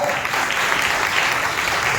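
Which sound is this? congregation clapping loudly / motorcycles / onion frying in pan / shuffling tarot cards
congregation clapping loudly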